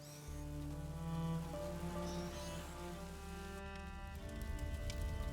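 Steady rain falls in the video game A Plague Tale: Innocence, a soft continuous patter under sustained background music, with no talking.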